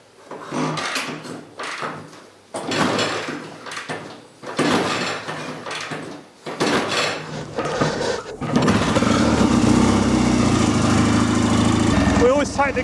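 A BSA Rocket Gold Star motorcycle engine fires up after some talking and handling noises, then runs with a steady, loud, close mechanical drone until the end.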